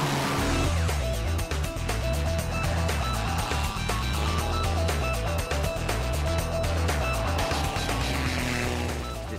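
A racing boat's engine exhaust roars loudly and continuously at close range, with rapid rhythmic pulsing and rough mechanical texture throughout.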